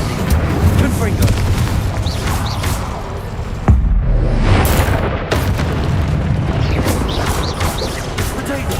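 Rapid spell-combat blasts and booms from the video game Hogwarts Legacy pile over dense battle noise, with repeated bursts and crashes throughout and voices shouting under the din.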